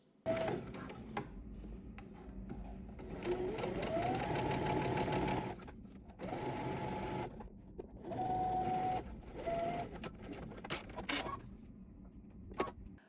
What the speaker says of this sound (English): at the sewing machine, I'm gonna turn under that 1/4 inch and we're gonna stitch very close to that edge